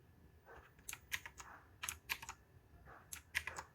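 Keys on a TYLEX XZ66 mechanical gaming keyboard are pressed close by, clicking in short irregular clusters of sharp taps with brief pauses between them, and no talking.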